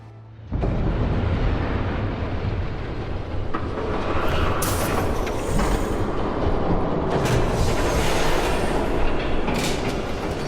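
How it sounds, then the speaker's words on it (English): A train passes by in a Batman game scene, starting abruptly and holding as a loud, close rumble and roar with clattering and bursts of bright screech and hiss, no voices. "There's a train coming."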